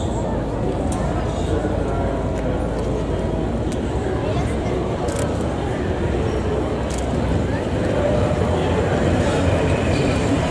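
A Brussels tram rolls past with a steady, loud rail rumble that holds for the whole stretch, with a crowd murmuring and voices mixed in underneath.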